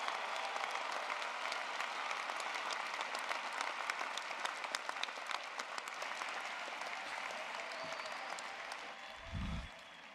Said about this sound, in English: Now let's give them a big round of applause.